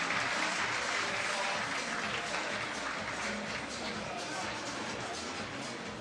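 A crowd at an outdoor lead climbing semi-final in Prague applauds steadily in a dense, sustained wash of clapping with faint crowd babble underneath, holding constant throughout.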